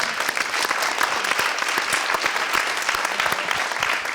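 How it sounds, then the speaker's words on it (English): Audience applause at a Hollywood-themed event at Filmhuset in Stockholm, a steady, dense wash of clapping that carries evenly through the whole stretch without talk. "Big applause for you guys."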